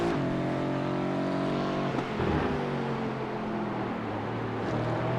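A GT4 race car engine in a racing simulator game climbs and falls through the revs as it accelerates out of a left-hand corner at Catalunya, loud and continuous with rising harmonic whine.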